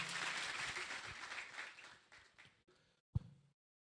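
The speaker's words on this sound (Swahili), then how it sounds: "Makofi kwa county leadership." Crowd at a county function in Gusii applauding the county leadership, a fairly faint, distant clapping that fades away over about three seconds, with a final sharp clap or knock before silence.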